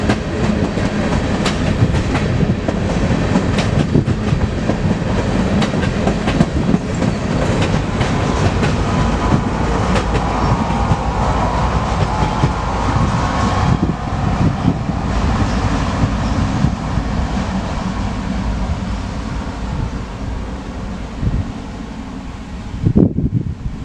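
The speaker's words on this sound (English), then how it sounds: "Our first catch here is a grainer, with the 25th anniversary engine in the lead." A BNSF grain train led by a GE Evolution-series locomotive in special 25th anniversary livery rolls past close and loud, a steady dense roar of wheels and rail clatter running for the whole stretch.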